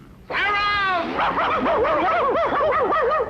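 Cartoon racing greyhounds bark and yelp at a dog track. Several rapid, excited barks run together without a break, loud and close.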